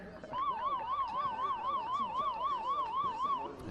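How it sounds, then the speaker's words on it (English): A wailing siren sounds at a women's college soccer game, North Greenville versus Emmanuel at halftime, a loud two-tone warble rising and falling rapidly and continuously for about three seconds. "As the siren goes off,"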